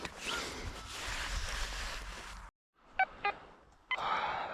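While detecting in winter, a metal detector gives two short, sharp beeps in quick succession, then another tone, after a stretch of rough rustling and scraping close by.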